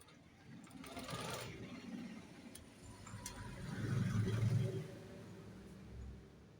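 A sewing machine stitches a fall strip onto the edge of a saree, its motor whirring in a few quiet bursts that rise and fall, louder near the middle, with light handling noises between runs.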